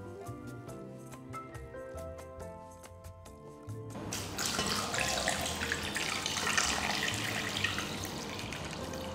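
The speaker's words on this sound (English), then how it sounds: "Let's start by giving the salted vegetables a good rinse." Salted vegetables rinsed under a running kitchen tap for pork, tofu and salted vegetable soup; a steady stream of water begins about halfway, after soft musical notes, and continues fairly close.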